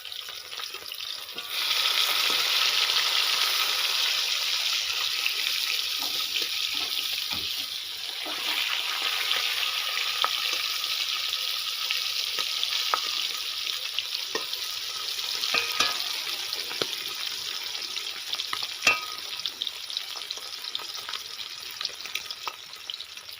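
Fish hisses and sizzles steadily in hot oil in a pan in a West Bengal village kitchen, a continuous loud crackling fry with small pops, running the whole time with no talking.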